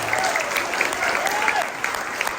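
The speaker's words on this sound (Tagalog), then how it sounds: "Pumalakpak ng pinakamalakas sa palakpak." A church congregation bursts into loud, sustained applause that runs unbroken from start to finish, with a voice faintly audible over the clapping.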